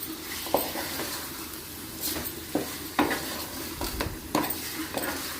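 A spoon scrapes and stirs chicken pieces with turmeric and coarse salt in a pot, with soft sizzling underneath and several sharper clinks of utensil against metal.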